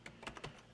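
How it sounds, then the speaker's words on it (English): A few quick keystrokes on a computer keyboard as a password is entered, three or four soft clicks in a short burst, close and fairly quiet. "I have another word that I use that I'm going to type in here."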